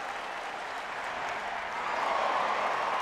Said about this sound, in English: They are cheering Vogelsong